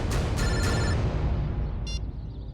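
A telephone rings with an incoming call from an unknown number, a few short bright electronic rings over a low rumbling background, then a faint final trill.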